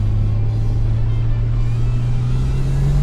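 Holden VL car engine pulling away, a loud, close, smooth low drone whose pitch rises gradually as it accelerates, with no talking.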